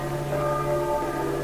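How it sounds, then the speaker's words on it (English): Church bells ring a warning for a city to evacuate in a vintage radio drama, a steady sustained metallic tone that is faint and distant, with no talking. "the bells you hear are ringing to warn the people to evacuate the city"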